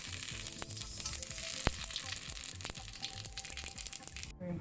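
Fennel seeds fry in hot oil over a low flame for la zi ji, a dense, steady crackling sizzle with scattered sharp pops and spits, fairly close and continuous throughout.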